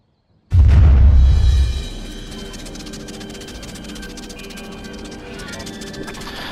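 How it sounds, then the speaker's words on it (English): A rocket launcher fires at Atheon in the Destiny video game, a sudden loud explosive boom that quickly drops to a steady rumbling roar lasting several seconds. "So we get the first rocket off, and it does actually a considerable more damage than Truth does."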